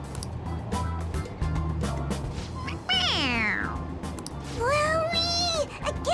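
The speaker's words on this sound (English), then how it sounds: "It meows when you press on its head." A toy cat in Persona 5 Royal meows when pressed on the head, giving two clear, drawn-out electronic meows over steady game background music.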